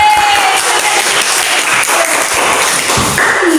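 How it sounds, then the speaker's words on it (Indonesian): A classroom of primary school children clapping together in a Christian elementary school, a loud, dense burst of applause that fills the room, close and continuous. "Semua tepuk tangan untuk Digo."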